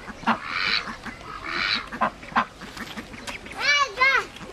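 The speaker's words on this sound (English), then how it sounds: "Oh, look at those ducks coming, Zach." Ducks quacking nearby as a small child is shown them, a few loud nasal quacks and honk-like calls breaking out between stretches of people talking.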